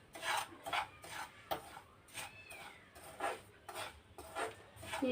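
Upma rava semolina rasps and scrapes in a dry pan as it is stirred and roasted, a steady series of quiet gritty strokes repeating every half second or so, close and alone.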